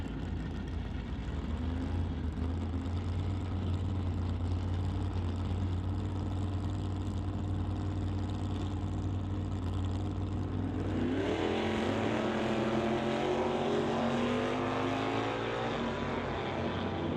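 Drag racing cars run the quarter mile at an NHRA Summit ET series event: a steady, loud engine drone that erupts midway into rising, revving roars as the cars launch and accelerate away, with no talk.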